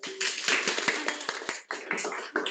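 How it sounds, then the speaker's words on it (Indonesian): A small classroom group claps briefly in uneven, sharp hand strikes, close and fairly loud, with a short pause before a final burst. "Tepuk tangan dulu."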